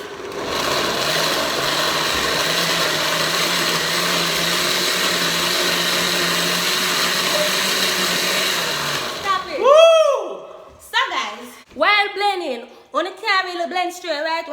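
A kitchen blender runs loudly and steadily for about nine seconds, then stops abruptly, followed by voices talking in a home kitchen.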